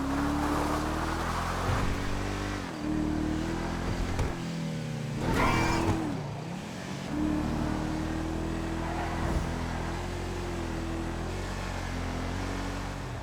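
The Enus Deity, a Bentley Flying Spur-style luxury car in GTA, understeers off the road under braking; a steady engine drone rises and falls in pitch, dipping sharply midway, with no talk.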